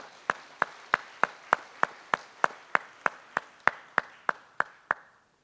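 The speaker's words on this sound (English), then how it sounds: "Maybe we can give them a short applause." About sixteen sharp, evenly spaced claps ring out at a steady rhythm, crisp and fairly close in a quiet room at a conference gala dinner, sounding like a single pair of hands or a small, tightly synchronized group.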